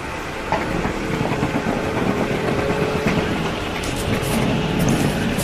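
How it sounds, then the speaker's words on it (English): Bullet train in Kyoto, Japan running past, a broad steady rushing roar with a rising whine, loud and sustained over several seconds. "This time it's a bullet train."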